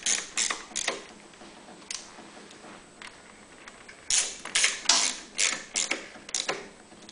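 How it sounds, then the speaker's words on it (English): A hand wrench ratchets as nuts and bolts are tightened on a Honda EU3000iS generator, giving bursts of sharp, close metallic clicks separated by brief pauses. "go ahead and tighten down these bolts"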